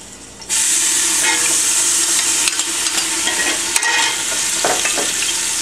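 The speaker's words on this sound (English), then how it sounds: "now that our olive oil is hot, we want to go ahead and add our ginger," Ginger and garlic hit hot olive oil with a sudden loud burst of sizzling, then a steady, bright frying hiss for several seconds, with a few stirring scrapes near the end.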